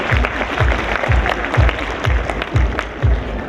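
A seminar audience at an investing conference gives steady applause to welcome a speaker, with close, dense clapping and low thumps recurring under it.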